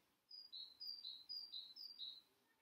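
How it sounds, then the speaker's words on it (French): Birds sing outside on a calm, quiet street: a run of about eight bright, evenly spaced chirps, fairly close and clear over a soft background hush. "j'ai le son des oiseaux"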